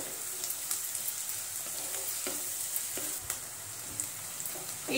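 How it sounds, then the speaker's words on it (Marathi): Medium-cut capsicum sautés over a high flame in a pan for tawa paneer pulao, giving a bright, constant hiss with intermittent stirring scrapes and taps, close and loud, with nobody talking. "गॅस आपण मोठाच ठेवायचा आहे आणि सर्व परतून घ्यायचं आहे।"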